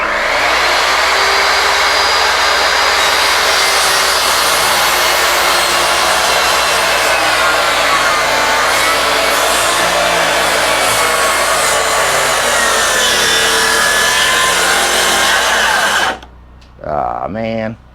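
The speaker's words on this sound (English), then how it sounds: "cheapy skill saw." A cheap Skil circular saw whines continuously through a pine plank for about sixteen seconds, loud and close, then cuts off abruptly as a voice speaks briefly.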